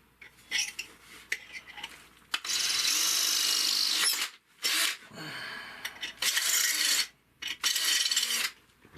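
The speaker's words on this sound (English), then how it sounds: "Let me get the other one drilled here." Drill boring holes in a titanium shovel for a repair, heard as several harsh grinding bursts of different lengths, close up, with short pauses between them.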